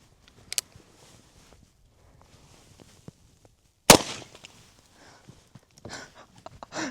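A Colt Walker revolver fires a single .45 Colt round at a whipped cream can outdoors. One sharp, loud report cracks midway through the clip, with faint rustling and footsteps before and after.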